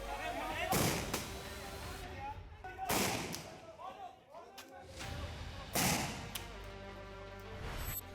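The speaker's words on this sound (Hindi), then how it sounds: "सड़क पर अरविंद को काबू में करने के लिए पुलिस ने कई राउंड टीयर गैस के गोले भी चलाए।" Police fire several rounds of tear gas shells on a street in Gwalior: three loud, sharp blasts spaced a few seconds apart, each with a booming tail, over a busy background with voices.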